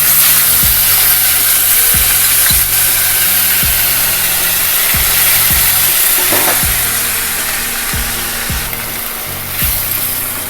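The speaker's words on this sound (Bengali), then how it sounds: "পেঁয়াজটা দিয়ে একটু ভাজা ভাজা করে নিয়ে" Grated onion frying in oil with nigella seeds and bay leaf while cooking koi fish curry, a steady loud sizzle with sharp periodic knocks, probably a spatula striking the pan, and no talking.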